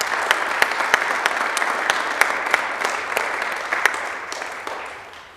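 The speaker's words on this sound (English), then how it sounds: "So let's give a round of applause for our chapel musicians." An audience in a chapel applauds its musicians at an awards ceremony, a steady wash of clapping with sharp individual claps standing out, fading toward the end.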